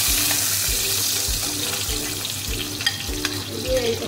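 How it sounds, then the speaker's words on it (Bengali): A hilsa fish head fries in oil with a constant loud sizzle, while low rhythmic thumps repeat steadily beneath and a few brief clicks and taps stand out near the end. "ইলিশ মাছের মাথাটা ভাজা আমার রেডি"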